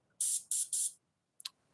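Three quick hissing bursts of a spray can in a row, then a pause and one shorter spurt, close and crisp.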